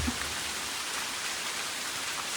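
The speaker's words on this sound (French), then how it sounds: "Aujourd'hui, il pleut." Steady rain falling outside a rental chalet near Mont Tremblant on a grey, mild morning, a dense continuous hiss of drops hitting surfaces, fairly loud and even throughout, with no voices.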